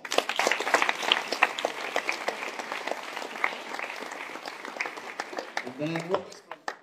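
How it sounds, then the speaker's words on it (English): Audience applause at a tech meetup, dense clapping filling the room throughout while a voice talks over it near the end. "Applause"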